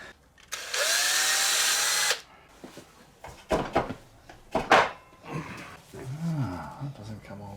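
A power tool, likely an impact driver, undoes bolts on motorcycle forks, with one loud whirring burst of under two seconds, then clanks of loosened parts and someone speaking close by.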